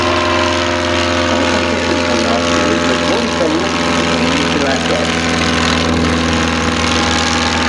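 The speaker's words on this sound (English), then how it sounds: "joined by the 1937 Martlet single-seat aerobatic sport racing aircraft, designed by F.G. Miles, developed on the Avro baby" A 1937 Miles Martlet single-seat aerobatic sport racing aircraft holds a loud, steady engine drone at an airfield, a continuous low hum with no clear change in pitch.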